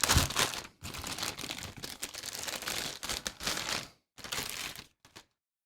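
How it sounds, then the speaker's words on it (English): Plastic wrapping is crinkled and torn off a 2020 fourth-generation Amazon Echo with a cloth cover, in close, loud bursts of crackling broken by two brief pauses. "Go ahead and get the plastic off of this."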